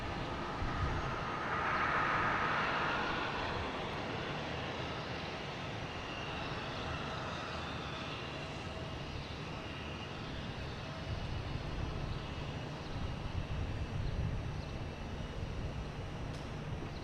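A Delta Airbus A321neo arriving from Salt Lake City lands at Boston Logan, its jet engines a broad, steady roar from the approach that swells and then slowly fades, with no talk over it.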